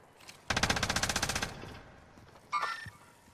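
Rapid automatic gunfire in Call of Duty Warzone on Rebirth Island, a loud sustained burst of about a second, then quieter pause and a short second burst with a metallic ring, no talking.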